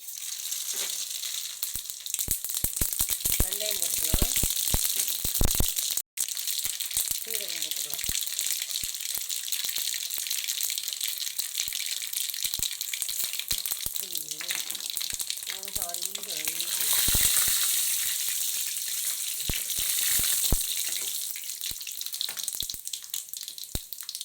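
Mustard seeds spatter in hot oil, a long run of sharp crackling pops over a steady hiss, with a person talking intermittently over the sizzling.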